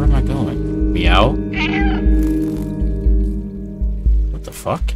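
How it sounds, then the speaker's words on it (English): A cat meows several times in the video game Stray over a steady musical game soundtrack, with close, clear, wavering meows. "so I just meow for clues"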